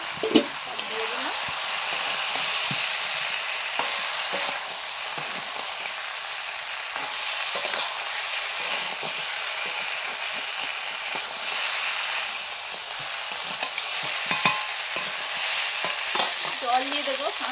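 Potatoes and crab pieces fry in a spiced masala, giving a steady close sizzle with repeated stirring scrapes throughout and brief faint voice traces.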